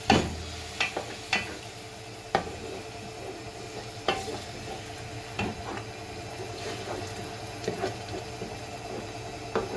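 A spoon stirs tomato puree into a pot of meat pilau rice, with sharp scraping knocks against the pot over a soft, steady sizzle from the cooking base.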